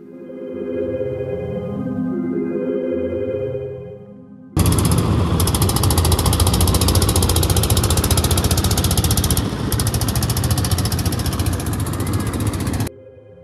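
A small passenger boat's motor, heard first as a low, smooth hum that fades, then as a loud, harsh, rapidly pulsing engine clatter that runs steadily for about eight seconds before stopping abruptly.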